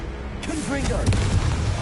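A blasting Confringo spell goes off in Hogwarts Legacy with a booming burst at close range, preceded by a voice calling out over sustained crackling rumble.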